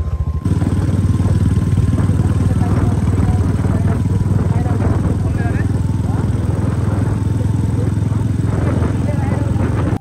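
A motorcycle engine runs steadily close by for the whole stretch, a constant mid-pitched drone with clatter, while a rider sets off slowly on the bike.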